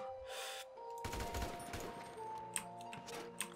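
Gunfire crackles in the video game GTA 5, quiet distant bursts of rapid shots with a few sharper cracks, no talk over it.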